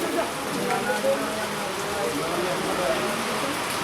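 Steady rain falling outdoors, a dense, even hiss of drops on surfaces that continues throughout at moderate loudness, with faint voices in the background.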